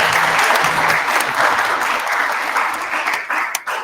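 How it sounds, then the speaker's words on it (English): Audience applause at a church community event honoring a ladies auxiliary, dense steady clapping from a crowd close by, sustained throughout and fading slightly near the end. "Round of applause for our ladies and our grand lady back here."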